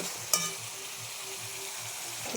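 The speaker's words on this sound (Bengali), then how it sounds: "এটা একটু হালকা ভাজা হয়ে গেলে তার উপর মাংসগুলো দিয়ে দেব।" Ingredients lightly frying in a pan before meat goes in, giving a steady, close sizzle throughout with a brief sharp clatter near the start.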